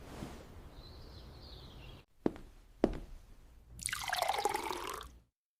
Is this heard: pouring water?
yes